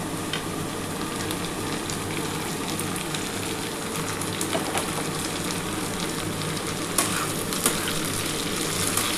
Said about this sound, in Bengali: এবার আমি টমেটো দিয়ে দিচ্ছি, একটা টমেটো দিয়ে দিলাম।